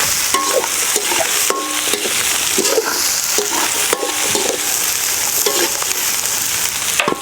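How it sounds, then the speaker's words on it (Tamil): Garlic sautéing in a pan for prawn Manchurian gives a loud, continuous sizzle broken by repeated scraping strokes of a spoon against the pan, close and steady throughout. "பூண்டை எடுத்து நம்ம போட்டுக்கலாம். போட்டுக்கிட்டு நல்லா வதக்கணும்."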